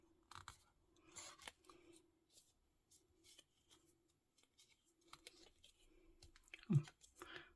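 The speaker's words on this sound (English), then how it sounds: "Just trim that bit." Scissors snip and trim paper while spines are added to a botanical lapbook journal, giving scattered quiet cuts with paper rustling and one sharper, louder snip near the end.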